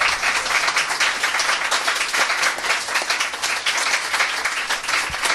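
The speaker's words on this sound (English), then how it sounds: "The round of applause is weird." A round of applause from a live podcast audience, steady dense clapping that fills the whole stretch at close, loud level with no pauses.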